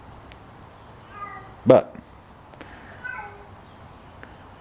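A cat meows at a house door, several short thin mews spread across a few seconds, with one louder, sharper burst where a person's brief word is also heard.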